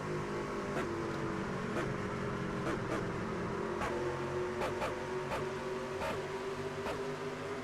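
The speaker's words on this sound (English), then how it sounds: "glitchy sounds on the truck engine noise, folks. That's an iRacing thing" Truck engine in the iRacing sim, recorded riding on board during a stock-truck race lap: a steady, loud engine drone with periodic sharp glitchy clicks and stutters breaking through about every second.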